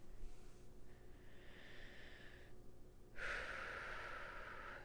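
A person draws a deep breath, a soft airy inhale followed by a longer, louder exhale, close and quiet with no talking.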